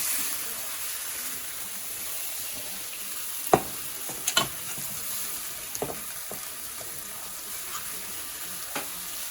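Pepper steak vegetables are scooped out of a hot skillet, with a continuous sizzle underneath and a few sharp scraping knocks of a spoon against the pan, close by, without talk.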